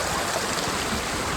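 Floodwater rushes across a dangerous road in a steady, loud, close wash of broadband noise, with no voices and no breaks.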